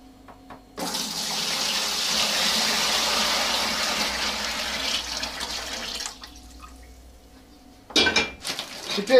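Water is poured into a fermentation tank to prepare a sugar wash for distilling, a loud steady gushing that runs for about five seconds, then stops, followed by a few clinks of metal and dishes.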